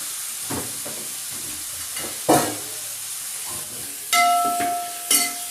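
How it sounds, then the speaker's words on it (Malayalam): Sliced onions with salt sizzle softly in a pan, sautéed for a village-style chicken curry, with a spatula scraping and clinking against the metal in several sharp strokes. "സവാള കുറച്ച് ഉപ്പിട്ട് നമ്മളിതൊന്ന് വഴറ്റിയെടുക്കാം."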